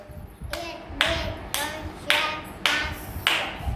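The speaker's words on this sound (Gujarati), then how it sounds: "છ નંબરનું તો છ તાળી પાડો બેટા" Six sharp hand claps by children in a steady, evenly spaced rhythm during a classroom counting activity, close by and moderately loud, with faint murmur in the background.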